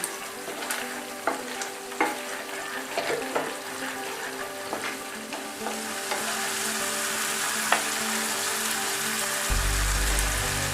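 A spice and salt mixture for an Assamese vegetarian paneer curry sizzles steadily in a pan, with a scattering of scraping stir strokes; the frying hiss thickens and grows louder toward the end, with no talking.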